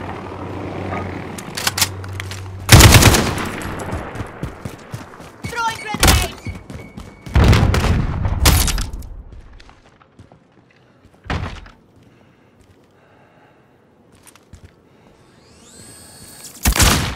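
Call of Duty: Modern Warfare 2019 match on PS5 with sharp, loud gunshot bursts and heavy impacts in separate clusters, broken by quieter stretches and faint background movement.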